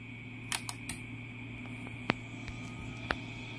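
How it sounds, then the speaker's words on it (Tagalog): A Konzert AV-502USB amplifier under repair gives several sharp, brief relay clicks as it powers up, set against a steady low mains hum in a quiet room. "So nag-click na yung relay."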